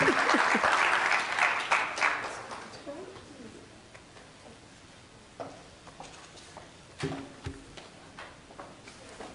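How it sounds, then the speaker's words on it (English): Applause from a conference audience welcoming a speaker fades from a dense burst into a few scattered claps, with a voice talking over the tail. "let's bring ourselves to a nice round of applause for Dr. Anthony Pinn"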